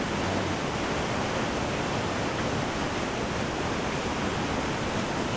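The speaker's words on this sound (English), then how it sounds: "Look at the force of that water." Steady, powerful rush of a flooding river in Southern Ontario during spring snowmelt, a dense broadband roar with no letup, close and loud throughout.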